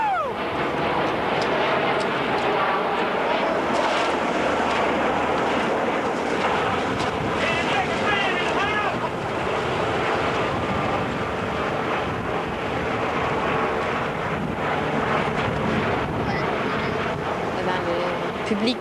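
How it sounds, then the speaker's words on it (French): Strong wind blows outdoors across a marsh during the 50th anniversary D-Day commemoration at Sainte-Mère-Église, roaring and buffeting the microphone continuously for nearly twenty seconds, with faint voices under the gusts. "Ouais, le vent est fort."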